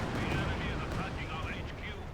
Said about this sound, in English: Panther firing another barrage into the base here